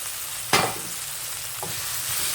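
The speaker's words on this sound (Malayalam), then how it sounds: "ചെറുതായിട്ട് വഴണ്ട് വന്നപ്പോൾ നമ്മൾ ഇതിലേക്ക് തക്കാളിക്ക് അരിഞ്ഞൊക്കെ ഇട്ട് കൊടുക്കുന്നുണ്ട്" Chopped tomatoes stirred into a pan of prawn roast, a close steady oil sizzle with one sharp stir scrape and a softer clatter a second later.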